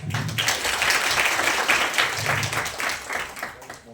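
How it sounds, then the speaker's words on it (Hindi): An audience at a college event claps steadily throughout, a dense, even wash of applause with a faint voice briefly audible beneath it. "एक बार इस बात पर तालियां हो जाए।"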